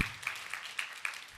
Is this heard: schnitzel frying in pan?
no